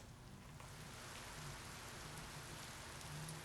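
Steady rainfall in Biomutant, an even, constant wash of drops hitting surfaces, moderately faint and unbroken, with a faint low hum beneath and no thunder.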